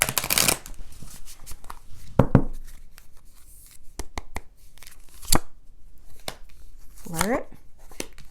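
Tarot and oracle cards being shuffled by hand in bursts of crisp riffling and soft slaps, close and clear, with a person speaking between the shuffles.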